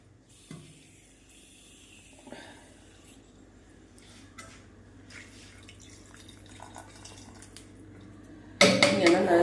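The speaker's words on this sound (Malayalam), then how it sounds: "നിങ്ങൾക്കൊക്കെ കറി വേണമെന്നുണ്ടെങ്കിൽ കുറച്ച് വെള്ളം കൂടെ ഒഴിക്കണം കേട്ടോ." Water pours into a pressure cooker of chickpeas for kadala curry, a loud splashing burst arriving near the end after quiet clinks and handling of kitchen utensils.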